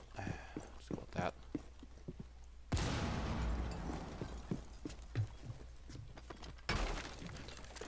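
A breachable wall being shot out in a tactical shooter game: sharp sudden blasts with crumbling debris and scattered impacts, two bursts of breaking material among quieter clicks and steps.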